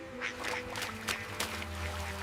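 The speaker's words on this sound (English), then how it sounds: "Welsh Harlequin ducks are active foragers." Welsh Harlequin ducks quacking on a farm, a close run of repeated nasal quacks in quick irregular bursts over a low steady background hum.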